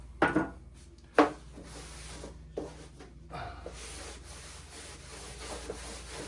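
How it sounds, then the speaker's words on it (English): Rag wiped back and forth across a fiberglass boat deck on a Carolina Skiff J16, a few sharp scrubbing strokes followed by softer, irregular rubbing close by. "Start wiping, back and forth, try not to miss anything."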